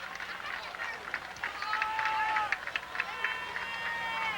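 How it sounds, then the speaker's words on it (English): Lions fans at a 1997 Texas high school football game between Henderson and Kilgore applaud as an injured player is helped off the field; scattered clapping blends with crowd noise and a few raised voices in the stands. "Gets a nice round of applause from the Lions fans."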